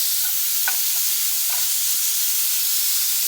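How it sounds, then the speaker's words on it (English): Chicken sautéing in a pan, a steady loud sizzle throughout with a few soft stirring scrapes and knocks from the utensil, close up with no talk. "So let me mix it a little bit. You see it's already in the pan. You know what I'm saying? We just gotta saute it up."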